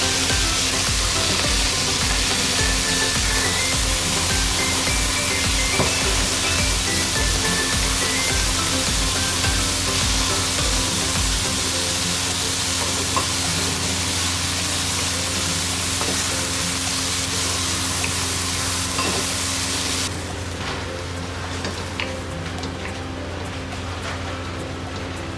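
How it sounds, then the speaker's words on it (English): Ground beef fries in vegetable oil in a large pan over medium-high heat, giving a steady, loud, dense sizzle and crackle that runs without a break and eases slightly toward the end. "heat a tablespoon of vegetable oil in a large pan over medium-high heat. Add the ground beef and cook until brown"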